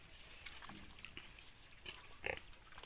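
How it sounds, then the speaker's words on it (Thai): Wild boar pigs on a farm, fed fruit peels and feed, make quiet grunting and rustling sounds with a few sharper bursts, heard alone at close range against a low background. "มาเบิ้งหมูที่อยู่ง่ายกินง่ายนะครับ"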